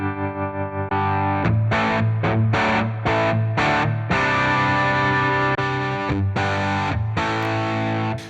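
Electric guitar through a TONEX modeled Fender Twin amp with reverb and modulation, a sustained chord followed by rhythmic strummed chord stabs with gaps, shimmering and lightly gritty, loud and unaccompanied.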